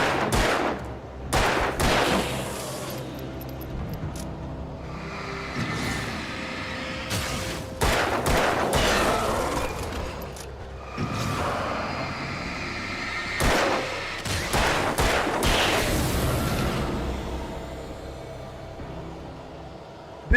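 Pistol gunfire from a video game, loud sharp shots arriving in irregular bursts with short gaps between them, layered over a constant game soundscape.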